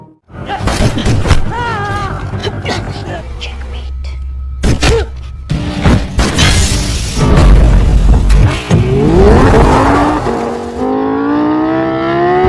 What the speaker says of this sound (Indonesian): Saurabh sang pengkhianat menembak Rizwan Ilyasi dan kabur dengan mobil sportnya